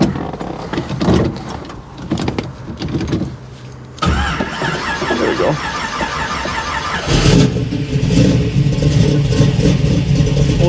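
A 1955 Chevy Nomad gasser with a stick shift cranks over and fires, catching around four seconds in, then settling into a loud, rough, lumpy idle that swells louder later. Someone speaks briefly near the start.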